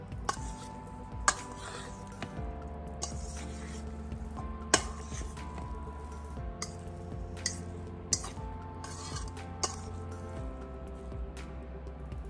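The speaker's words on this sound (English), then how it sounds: "Gonna give them just a little chop with the fork" A fork chops and stirs salmon tourtière filling in a bowl, giving soft wet squishes and light clinks against the dish, repeated at an uneven pace with a few sharper taps.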